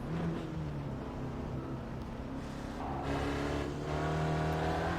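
A race car engine drones and revs in a racing video game at Mount Panorama, a steady loud whine that shifts pitch as the throttle lifts and reapplies, with no voices.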